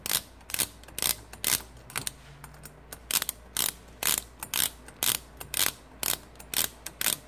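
A hand ratchet clicks in steady repeated bursts while loosening pre-loosened bolts on a GY6 157QMJ scooter engine, each sharp pawl rattle standing out loud and close with no talking.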